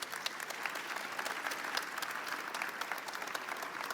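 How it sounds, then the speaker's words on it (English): Conference attendees applaud a panel after an artificial intelligence session, a sustained, even crowd of clapping at moderate volume with no speech over it. "Please join me in a warm round of applause for our great panel."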